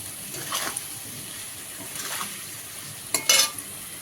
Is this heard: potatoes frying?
yes